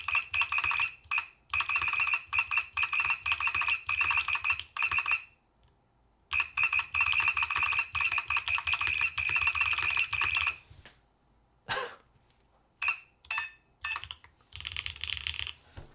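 A Class 100 mechanical keyboard typed on in fast bursts of crisp, bright clacks, several rapid runs broken by short pauses, close and fairly loud.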